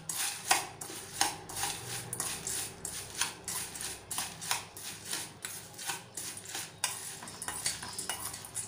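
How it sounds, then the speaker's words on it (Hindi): Evening snack ingredients being mixed in a bowl, a steady run of spoon scrapes and soft clinks repeating roughly every half second, fairly quiet and close, with no speech. "इसको अच्छे से मिक्स कर लेंगे"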